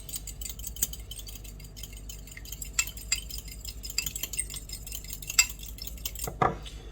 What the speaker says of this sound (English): Then just whisk that together.